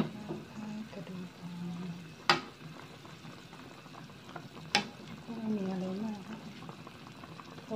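Water boils in a pot for a spicy Thai pork rib soup, a steady low bubbling with two sharp utensil clacks and brief faint talk nearby.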